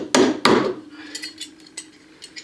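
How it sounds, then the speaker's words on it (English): A hammer strikes and claws at a knockout on a metal electrical back box set in a wall, with two sharp metallic knocks followed by lighter clinks and taps, close up. "I'm just going to use the hammer and claw it that way a little bit."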